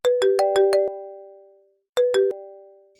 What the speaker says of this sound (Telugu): ఆది గడు ఫోన్ తప్పేశాడు రా.